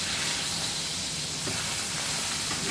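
Filet mignon steaks sizzle in a hot pan as they are flipped, a steady, dense hiss of searing meat throughout, fairly close and with no voices.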